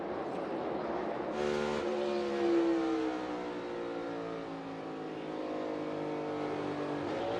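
A NASCAR Cup Series race car engine at the United Rentals Work United 500 screams through its gears, the revs rising and dropping as it shifts. The loud, sustained engine note is heard alone, without commentary over it.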